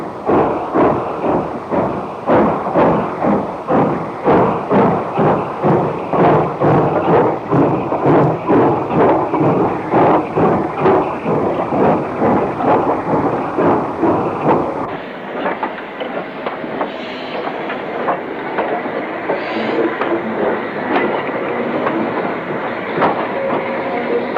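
A WD class 2-8-0 steam freight locomotive clanks westward at Northwich hauling empty coal wagons, its loud rhythmic chuffing and clanking rolling past close by, then giving way to a steadier rumble of the passing wagons.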